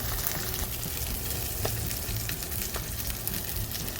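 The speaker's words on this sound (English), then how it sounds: "See how it just shrinks as soon as you put that skin on the oil." Salmon skin searing in hot oil in a pan, giving a continuous close sizzle and crackle with small spits and pops scattered across it, steady in level and without talk.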